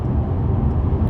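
Inside a 2017 Mercedes-Benz E220d Estate diesel accelerating uphill on a slip road in Sport Plus and 5th gear, a steady, loud low-frequency engine and road drone fills the cabin with no talking.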